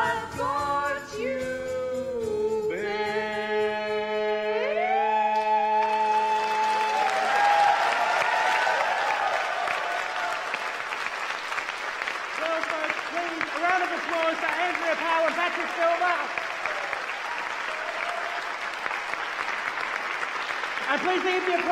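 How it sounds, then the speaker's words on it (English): Audience applause for panellists at a Midsumma evening event starts under fading music and swells into steady, full clapping that carries on for many seconds. "And please leave the applause going for all of our panellists tonight."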